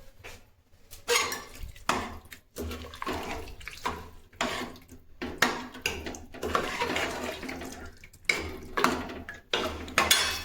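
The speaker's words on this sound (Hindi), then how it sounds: "हाथ धो लेती हूँ।" Hands are washed under running water in a home kitchen, with splashing and patchy bursts of water mixed with clinks of dishes, close and uneven.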